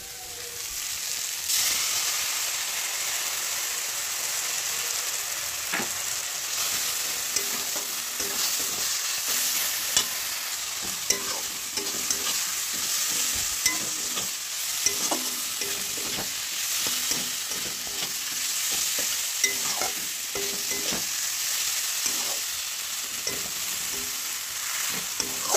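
Spice paste is stirred and fried with kabuli chickpeas and peas for ghugni, with a little water added to the pan: a steady close sizzle runs throughout, broken by scraping stirs of the spoon, with no voices.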